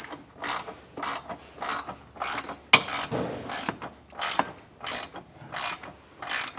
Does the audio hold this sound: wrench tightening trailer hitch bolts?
yes